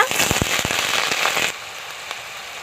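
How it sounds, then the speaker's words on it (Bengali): Dried red chillies and bay leaves hit hot oil with a burst of loud, close crackling and popping for about a second and a half, then the spluttering drops away to a quieter hiss. "এবার আমি দিয়ে দেবো দুটো শুকনো লঙ্কা দুটো তেজপাতা ফোড়ন দিয়ে দেবো"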